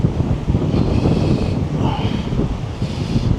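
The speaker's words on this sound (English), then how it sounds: "Blowing a hoolie." Strong wind roars steadily into the microphone on a seaside walk between villages in Tenerife, a loud continuous buffeting rush with faint surf beneath and no talk.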